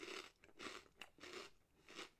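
Crunchy deep-fried potato snack is bitten and chewed close up, giving four rhythmic loud crunches in quick succession.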